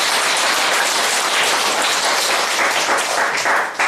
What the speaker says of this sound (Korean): 큰 박수를 한번 보내주십시오.